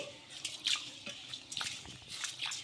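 Water splashes and drips over ration rice being washed in a vessel, with soft intermittent trickles and small splashes close by, no talking.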